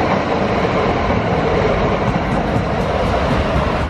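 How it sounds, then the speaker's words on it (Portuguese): A Cologne tram that also runs underground as a metro rumbles past loudly and steadily throughout, with a continuous rolling rail roar and faint clatter of the wheels. "esse bonde é muito interessante, é muito louco, porque ele é um bonde que também é um metrô"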